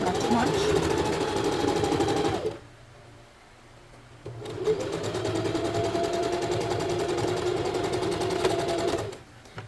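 A sewing machine stitching elastic onto a lace bralette cup runs in two long bursts of rapid, close, loud needle chatter separated by a short pause.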